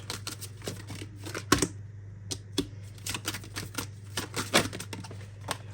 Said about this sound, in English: I'm just going to shuffle a certain number of times